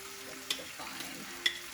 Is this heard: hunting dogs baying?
no